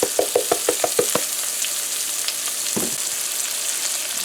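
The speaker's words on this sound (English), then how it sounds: "we are frying the saltfish at first with the onions" Salted fish frying with onions in a pan: a crisp run of about eight quick sizzling pops at the start, then a softer steady sizzle with a later burst of stirring or spattering, no talking.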